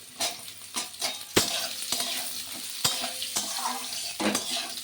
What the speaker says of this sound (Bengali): দিয়ে ভালো করে নেড়ে নিই